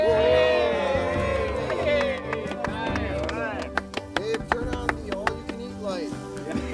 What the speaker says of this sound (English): I think we ought to have a round of applause for Dave the cook.